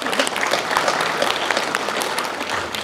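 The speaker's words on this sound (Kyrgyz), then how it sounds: "Сиздерге кол чабуулар болсун." Audience applause at a speech, dense and sustained clapping from a large crowd that carries steadily through the clip with no talk over it.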